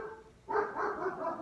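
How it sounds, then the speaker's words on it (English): Neighboring dogs bark in a steady, sustained volley at a moderate distance, the noise starting abruptly and carrying on without pause. "I apologize for the dogs barking, folks. That's the neighbors, and I can't control that."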